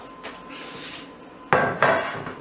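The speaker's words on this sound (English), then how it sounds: "So all we do at this point is just put it in here, into your baking dish." Cabbage casserole being spooned into a baking dish, with soft scraping and then two sharp, close clatters of a utensil knocking against the dish, no talking.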